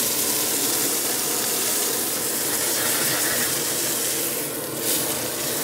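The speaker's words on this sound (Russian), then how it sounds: "Говядинку жарим, жарим." A steady, loud sizzle and hiss of beef frying in oil in a hot pan, continuous throughout with no voices.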